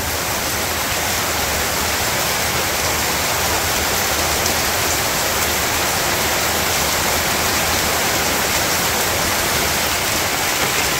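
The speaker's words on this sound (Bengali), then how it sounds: "এই যে বৃষ্টি দেখেন কিরকম জোরে নেমে গেল।" Heavy rain pours down in a village, a dense, constant roar of drops hitting water and surfaces, loud and close, with no voices over it.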